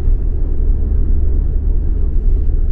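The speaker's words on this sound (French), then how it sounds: "C'est principalement des bruits de roulement qui remontent." Tyre rolling noise inside an Alfa Romeo Tonale PHEV plug-in hybrid cruising on the motorway at 110 km/h, a steady, loud low-frequency cabin rumble and roar with no talk over it.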